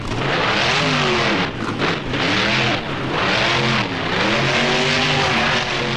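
Monster truck in the BeamNG video game climbing up and over a pile of crushed cars, a loud continuous engine roar with rising and falling revs throughout, no talking.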